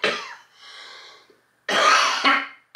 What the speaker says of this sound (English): oh, coughing really hurts.